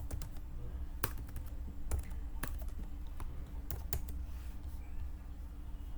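Code being typed on a computer keyboard, a steady run of close, crisp key clicks with uneven rhythm and a few louder strikes, no voices over it.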